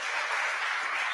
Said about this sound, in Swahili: Tuweze kupigia walimu wetu makofi tafadhali.